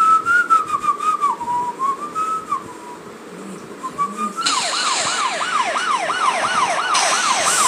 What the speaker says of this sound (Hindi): देखा गाड़ी का साइरन